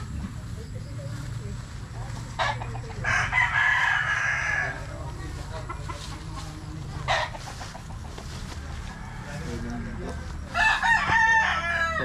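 Chickens cluck and roosters crow nearby, loud at moments, with a tone that sounds tense as a snake goes after the fowl.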